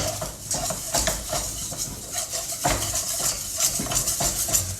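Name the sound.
whisking flour into butter in a pan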